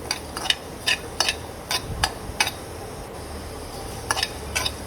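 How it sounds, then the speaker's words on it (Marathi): Dry scraping and stirring of misal spices roasting in a dry pan, with a series of sharp, irregular clinks and scrapes over a quiet background hiss. "हे आपल्याला आता 1 ते 2 मिनटं तव्यामध्ये पॅनमध्ये भाजून घ्यायचे आहे"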